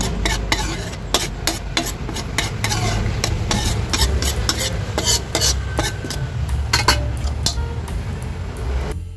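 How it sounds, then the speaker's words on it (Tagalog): Vinegar sauce thinned with a little hot water is stirred in a pan for a pechay dish, with a rapid series of loud spoon scrapes and clinks against the pan over a steady simmering sizzle. "haluin natin guys yung ating mixture"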